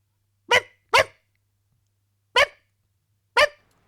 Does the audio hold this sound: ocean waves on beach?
no